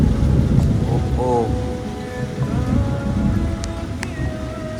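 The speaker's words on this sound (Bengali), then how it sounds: "সেই বিদ্যুৎ চমকাচ্ছে, বৃষ্টি পড়ছে" Heavy night rain in Kolkata during a nor'wester storm, a steady dense wash of rainfall with rumbling thunder beneath it, close and loud throughout, with brief sharper sounds standing out over the downpour.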